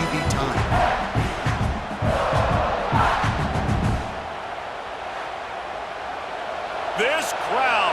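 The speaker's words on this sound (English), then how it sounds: "This crowd, full throat, splitting the eardrums and letting them know it's going to be a long day" A stadium crowd roars in College Football 26 during a USF versus South Carolina game. The roar is loud and full for about four seconds, then drops to a lower murmur before swelling slightly again near the end.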